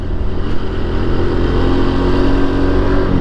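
A small Honda Pop 110 motorcycle rides along a long road trip, its engine droning steadily and loudly close up with wind rush.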